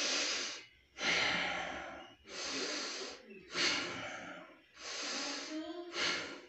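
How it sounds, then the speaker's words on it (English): A person lying prone does slow deep breathing, six long loud inhales and exhales in a steady rhythm, close and breathy, with no talk. "start deep breathing"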